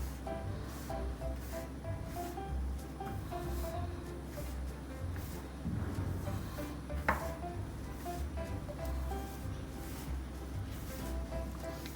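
Baking soda and cocoa powder being stirred into eggless oat and whole wheat chocolate chip cookie dough, with a steady soft scraping and rubbing that carries on evenly throughout, close by and fairly quiet, no talking.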